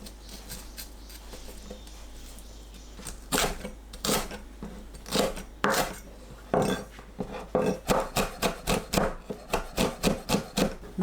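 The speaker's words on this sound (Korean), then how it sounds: "청양고추와 홍고추를 씨 빼고 잘게 썰어주세요" Green and red chili peppers being finely chopped with a knife on a cutting board, quiet at first, then a quickening run of crisp, evenly spaced chops close by.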